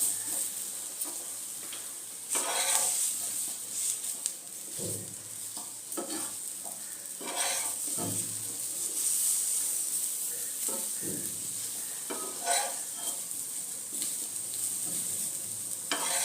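Chicken pieces frying in oil with onions, being turned to brown on all sides, produce a steady close sizzle with repeated scraping strokes of a spatula every second or two.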